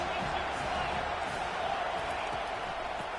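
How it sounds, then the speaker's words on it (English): A stadium crowd roars in the American football video game College 25 during an LSU matchup, a steady, fairly quiet wash of cheering that holds throughout. "this crowd is turning it up a notch"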